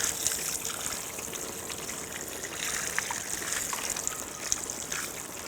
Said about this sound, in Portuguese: Vamos jogar bastante água aqui em cima do conector.